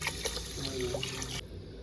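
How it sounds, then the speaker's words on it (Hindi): Water pours steadily into a pot of rice for about a second and a half, a continuous close splashing fill that stops abruptly, leaving faint room noise. "इतना उंगली पानी डालना चाहिए उसमें"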